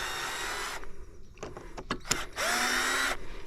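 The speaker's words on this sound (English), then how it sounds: "we're just gonna run these screws down just to give you a glimpse of, you know, what it's capable of doing" A Hyper Tough 12V drill drives screws into wood in two whirring runs. Between them come a few sharp clicks and knocks as the bit is handled, and the second run rises in pitch as the motor winds up.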